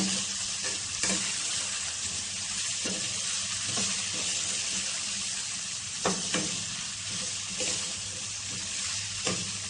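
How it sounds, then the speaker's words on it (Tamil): Ivy gourd sautéing in oil in a pan, a steady close sizzle and fry running throughout with occasional soft stirring scrapes and clinks of a utensil, no talk. "நல்லா வதக்குங்க."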